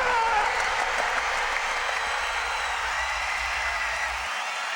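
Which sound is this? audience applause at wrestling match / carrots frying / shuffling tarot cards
audience applause at wrestling match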